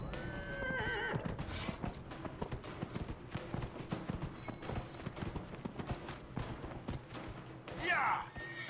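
Horse hooves clip-clop at a gallop with loud neighs and whinnies during a horse race in the video game Dragon Age Inquisition, set against busy game sound and music, with a sharp whinny burst near the end.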